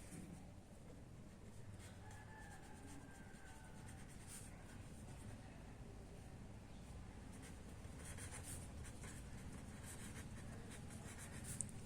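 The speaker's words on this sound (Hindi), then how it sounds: "सबसे पहले नाम लिखेंगे, यहाँ पे चूंकि वसीम है तो हम लिखेंगे वसीम।" Pen scratching across paper while a profit and loss statement for an accounting exercise is written out, a soft steady scribbling held low under room hum with no talk.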